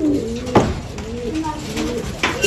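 Pigeons coo softly in a loft, low throaty calls repeating under someone talking in Arabic, with a few brief rustles and knocks in between.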